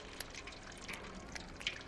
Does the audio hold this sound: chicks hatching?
no